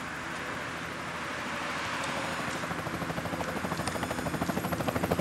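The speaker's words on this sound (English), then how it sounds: "This really is a great place for Mr. Gates' helicopter to land" Helicopter coming in to land, its rotor chop growing steadily louder and more pronounced over a broad roar of engine and wind, with no talking.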